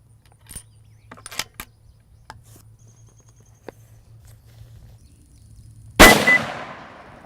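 A rifle topped with a Conquest V6 3-18x50 scope fires one loud, sharp shot at a downrange target, followed by a long decaying echo. Quiet clicks and handling noises come before it.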